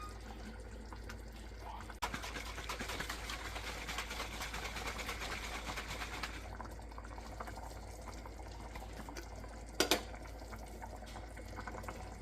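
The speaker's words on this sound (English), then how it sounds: "I suggest wash it with some water inside and keep adding until the bottle is about clean." A sauce bottle being rinsed with water at home while making ragù, with steady low running and sloshing water throughout and a brief louder clatter near the end, no talking.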